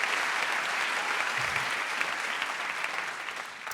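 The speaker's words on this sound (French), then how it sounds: "on peut l'applaudir" A theatre audience at a stand-up comedy show applauds a comedian with a steady, dense patter of clapping that holds evenly, fading slightly toward the end.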